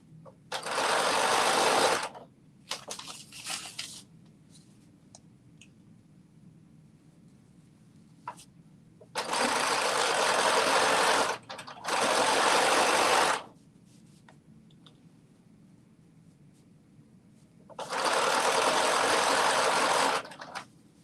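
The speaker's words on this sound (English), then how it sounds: "we are almost done sewing these side seams" A sewing machine stitches the side seams of a pair of pants in three main runs of about two, four and three seconds, with a short stutter between them, loud and close against a quiet room.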